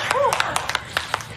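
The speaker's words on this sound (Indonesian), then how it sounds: "mari kita beri tepuk tangan" A few scattered, uneven hand claps from a small group in an Indonesian film scene, sharp and fairly close, mixed with a brief rising-and-falling whistle-like voice and background speech.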